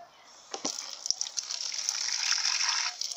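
Tap water gushes steadily into a basin while the water is changed during sponge-and-soap dishwashing, starting with a few splashes and building into a continuous close rush.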